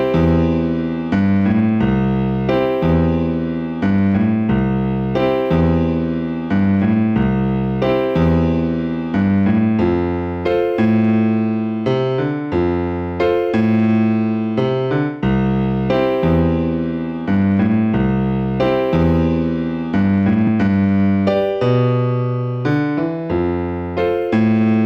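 Piano playing a 12-bar blues in a 60s rhythm and blues style, a steady rocking rhythm of repeated chords and bass notes, loud and continuous with no talking.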